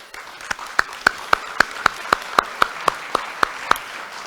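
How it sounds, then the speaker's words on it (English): At a Rotary club meeting, a round of applause for the month's sponsor comes across as sparse, evenly spaced claps, roughly a dozen sharp, close hits in a steady rhythm over a faint background. "So a round of applause if you would."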